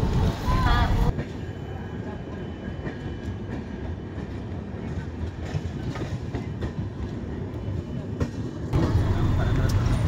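A Rajdhani Express train in 3AC rolls along at speed, its steady rumbling roar and rhythmic clatter filling the carriage, with louder bursts at the start and end and faint voices in the background.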